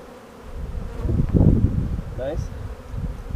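Honey bees hum steadily around an apiary hive during hive supering in Tiffin, Ohio, their buzzing swelling and fading nearby while people talk briefly.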